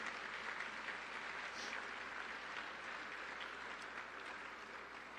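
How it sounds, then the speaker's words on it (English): An audience at a Detroit Economic Club event applauds the students, a steady, sustained wash of clapping from a large room, heard somewhat distantly and at an even level throughout. "Please give the students a round of applause to welcome them and thank their sponsors."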